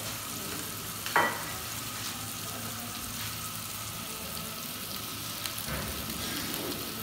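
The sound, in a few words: meat being lightly sautéed in a pan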